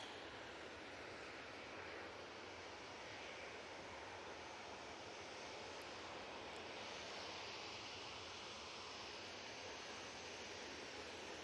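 An airplane arriving at Manchester Airport, a loud continuous jet engine roar that holds steady and fills the whole stretch, with no talking.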